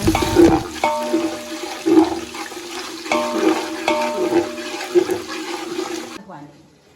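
Hot water pours steadily into a pot of chicken with rice and whole spices fried in oil over a wood-fired clay stove, gushing for several seconds before stopping abruptly, with voices talking nearby.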